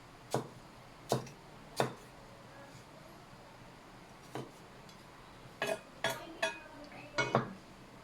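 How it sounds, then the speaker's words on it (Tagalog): Knife slicing tomatoes on a cutting board, in a home kitchen during seafood preparation: sharp, separate taps, a few spaced apart then a quicker cluster near the end, fairly faint and close. "hiwa tayo ng kamatis"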